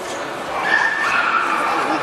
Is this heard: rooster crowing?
no